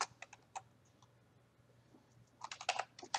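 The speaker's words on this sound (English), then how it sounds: "let me go ahead and type in" Quiet clicks of hashtags being typed on a computer keyboard come in short clusters of keystrokes, with a few sparse taps followed by a quicker flurry at the end, over a faint low hum.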